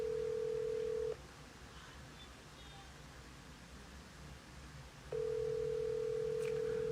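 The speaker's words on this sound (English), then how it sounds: "I hope Sister Kelly pick up" A telephone ringback tone sounds as a call is placed, with steady, loud tone bursts separated by a roughly four-second gap of quiet line hiss.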